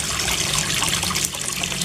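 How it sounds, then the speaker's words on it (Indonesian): Small waterfall fed by a 22-watt electric water pump, splashing and trickling steadily at close range, loud and continuous with a bubbly texture and no voices. "air terjun bisa mengalir dengan deras dan pasokan oksigennya juga banyak."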